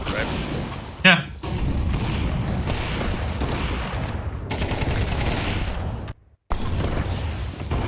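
A grenade detonates in Counter-Strike 2 with a sharp, loud blast early on, followed by continuous rumbling game noise and a brief cutout, while players talk over the action.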